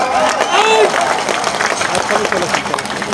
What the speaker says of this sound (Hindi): ताली टिका के